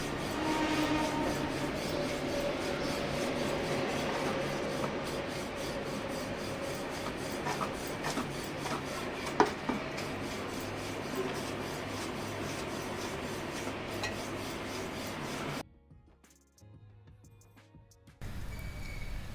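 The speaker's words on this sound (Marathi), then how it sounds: "बघा आता इथे किती सरसर आमची आई पोळ्या लाटणार आहे" Puran poli flatbread dough being rolled out quickly with a rolling pin, a continuous close scraping rub with small taps, stopping briefly near the end before starting again.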